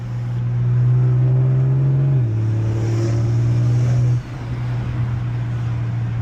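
A car fitted with a 6870 turbo accelerating close up, a steady engine drone climbing in pitch through the gears with a faint high turbo whine above it, then dropping back after a shift.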